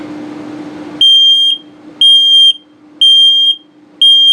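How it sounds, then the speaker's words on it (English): Loud, piercing low-battery alarm beeps from a detector in a 2022 Flagstaff Micro Lite 21FBRS travel trailer, in half-second bursts repeating once per second with a quiet hum between them. "and a low battery alarm"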